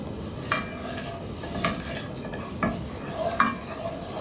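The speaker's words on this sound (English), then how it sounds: "We're going to bring this up to a boil and let it simmer for about 7 minutes, stirring it actually most of the time." A spoon stirring a simmering ham glaze in a pot, with a few distinct scrapes and clinks against the metal at irregular intervals over a soft bubbling, sizzling background.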